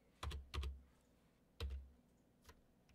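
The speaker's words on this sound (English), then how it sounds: "Now, if you start typing left." A few sharp keystrokes land on a computer keyboard during a coding session: two quick taps, a pause, one more tap and a faint final click, close and quiet in a silent room.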